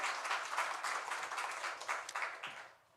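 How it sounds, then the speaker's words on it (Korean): Church congregation applauding during a Sunday worship service, a dense wash of many hands clapping at moderate distance for about three seconds before tapering off. "우리 하나님께 영광의 박수 올려드리겠습니다"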